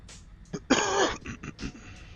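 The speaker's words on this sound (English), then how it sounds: "I'm coughing so much today" A person in a cockpit during a flight-simulator session coughs and clears the throat in short, harsh bursts up close: a rasping clear, then a few smaller coughs.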